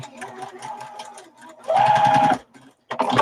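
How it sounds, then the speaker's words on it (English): Sewing machine running in short bursts while back stitching a quilt seam, a brief stitch run followed by a louder, steadier stretch of stitching, then a pause and another start, close up. "So I'm going to back stitch over there a couple of stitches and follow my line."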